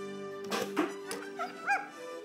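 Dogs in a period-drama film trailer give short, soft yips and whimpery barks, scattered faintly over a steady background hum with no talking.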